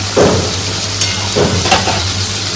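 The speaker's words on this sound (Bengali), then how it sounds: "মাছ ভাজা বসে গেছে, কিছু এখনো বাকি আছে।" Fish frying in a pan in a home kitchen, a steady moderate sizzle with brief bursts of spatter and stirring, over a low continuous hum from nearby construction work.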